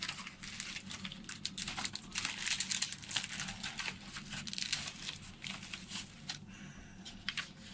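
Plastic bag crinkling up close, steady rustling and crackling with brief louder bursts, no voices.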